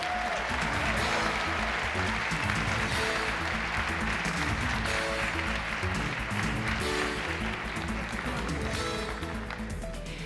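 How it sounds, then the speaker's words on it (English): A large ceremony audience applauds award-winning professional photographers, loud continuous clapping with faint background voices, holding steady throughout. "please join us in giving these outstanding photographers a round of applause"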